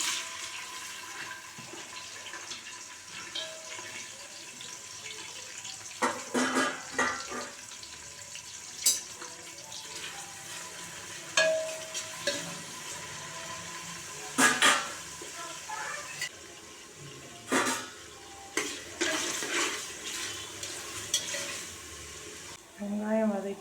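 Onions sauté for a chicken biryani, a continuous hiss and sizzle from the pan with repeated clatters of a utensil stirring against the metal, close and fairly loud throughout.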